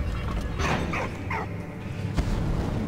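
A dog in the World War I video game Valiant Hearts barks three or four times in quick succession over steady game background sound.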